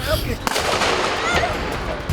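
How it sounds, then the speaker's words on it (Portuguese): Gunfire during armed conflict in a residential community in Brazil, heard as a dense, loud crackle of shots with sharp reports over a rough, noisy background. "Muito tiro."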